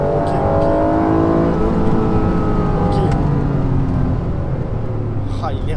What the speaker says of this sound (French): Ah, il est rageur le moteur.